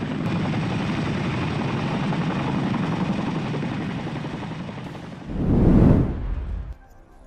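A Boeing CH-47 Chinook military helicopter's twin rotors thump and roar steadily, swelling louder as it passes close, then cutting off abruptly.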